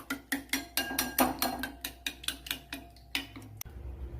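Eggs beaten with salt in a bowl for Kerala egg perattu, the utensil striking the side in a steady run of about a dozen sharp clinking taps, fairly close and clear with no talk.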